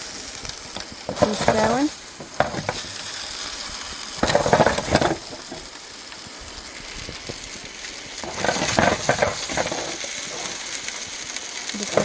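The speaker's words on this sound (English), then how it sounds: "So, you can hear the sizzle." Food sizzles in a pan at a campsite beside a truck, loud crackling bursts that swell and fade in several waves as it is stirred, with a brief voice partway through.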